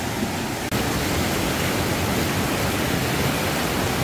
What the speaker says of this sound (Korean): 여기 이제 작은 폭포가 하나 나오네요